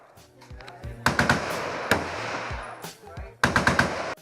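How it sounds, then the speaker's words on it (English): Gunfire rings out from a shooting range at the Vietnam tunnels, with close, sharp bursts of rapid automatic shots and single cracks repeating over a few seconds while voices murmur in the background. "for some reason there's a shooting range there"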